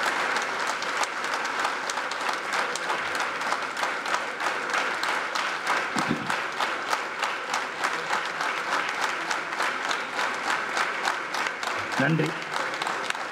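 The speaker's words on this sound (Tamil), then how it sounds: "ஒரு நிமிடம் நாம் இடைவிடாத அவருக்கு ஒரு கைத்தட்டு கொடுக்கணும்" A large audience at a Tamil public speech event gives sustained applause, steady and continuous for the full stretch. A brief voice is heard near the end.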